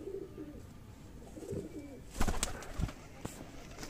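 A breeder pair of pigeons coos softly at close range in short, throaty bursts, with a few louder rustling thumps partway through.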